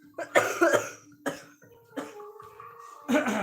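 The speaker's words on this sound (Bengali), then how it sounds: "কাশি" Several close coughs from a person in a home, spaced out in rough bursts with brief voiced sounds between them.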